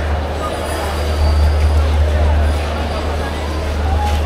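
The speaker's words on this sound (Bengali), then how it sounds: "আর হচ্ছে আমাদের একতা এক্সপ্রেস 7 নম্বর প্ল্যাটফর্মে" Steady low rumble of the Ekota Express idling at platform 7 of a crowded station before Eid, with a continuous hum and a murmur of waiting passengers throughout, loud and close.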